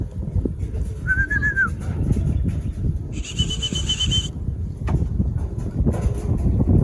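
Racing pigeons arriving home at an outdoor loft, with short whistle-like calls and a chirp standing out over steady wind and rustling background noise.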